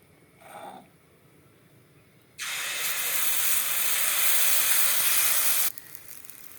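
Bottle gourd adai batter poured onto a hot griddle stone bursts into loud, steady hissing sizzle for about three seconds, then cuts off, after a brief faint sound near the start.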